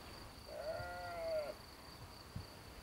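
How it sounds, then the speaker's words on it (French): A sheep bleats once on dry grassland where a flock grazes, a clear wavering call of about a second standing alone over faint background hiss. "Un troupeau de moutons sera là pour réouvrir cette pelouse sèche."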